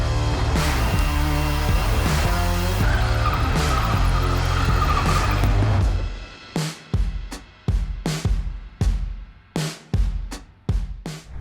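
A remote-control car revs hard in a long, loud whine, then skids through a series of short, sharp tire squeals and engine bursts separated by brief pauses, close and with no talk.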